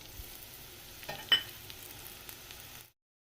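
Three large onions, sliced lengthwise, fry in oil in a kadai, giving a faint, steady sizzle with a few soft stirring clatters, quiet and close, for about three seconds.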